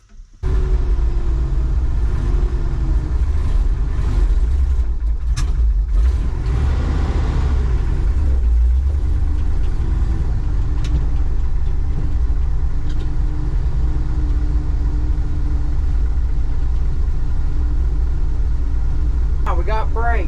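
An old International COE truck's engine starts and settles into a loud, steady rumbling idle that runs throughout, with brief air-brake hiss and clatter near the start and end.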